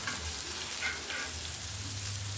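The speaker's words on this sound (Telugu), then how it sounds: "కొద్దిగా డీప్ ఫ్రై చేసుకుంటే చాలా బాగుంటుంది ఫిష్." Fish deep frying in oil, a dense and even bubbling hiss with a low hum beneath, constant and close throughout.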